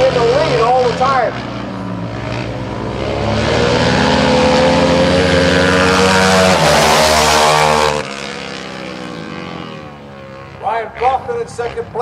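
Dirt bikes race on a TT track at Macomb, engines rising to a loud, high whine as they pass close, then fading to a distant drone before another rider buzzes by.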